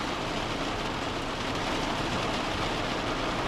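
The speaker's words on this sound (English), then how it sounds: "we've got a little bit of inclement weather today. Slight showers, light to moderate winds." Rain showers fall on Chesil Beach, a shingle shore, as a steady, even hiss of drops that holds at the same level from start to end, with no voices.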